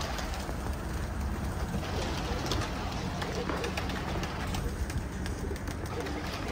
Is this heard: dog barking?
no